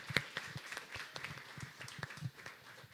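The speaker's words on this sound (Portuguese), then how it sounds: "Vamos aplaudir, então, a aprovação do projeto de lei número 1." Scattered applause from a youth council audience at a school chamber session in Brazil, marking approval of bill number 1; a moderate, uneven patter of claps without talk.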